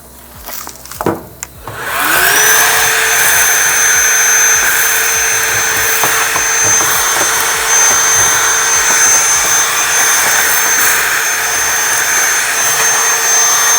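BDG Compact 1 mini granulator with a three-blade main rotor spins up after a few handling knocks, then holds a loud, steady whirring roar with a high whine throughout.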